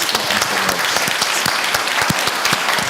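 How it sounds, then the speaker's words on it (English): Loud, dense applause from a summit audience for the panelists fills the clip, with steady crackling claps and no speech. "Please give our panelists a round of applause."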